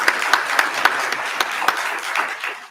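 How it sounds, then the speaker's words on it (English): Applause from an event audience: a moderate crowd clapping with a handful of sharp, close individual claps standing out above the softer mass, sustained for a few seconds before starting to thin toward the end. "Give another round of applause"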